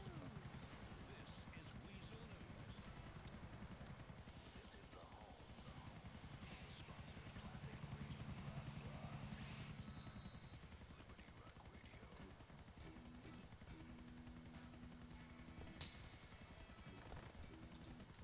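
A video game helicopter's steady rotor drone runs throughout, fairly faint and continuous, with a low engine hum beneath it.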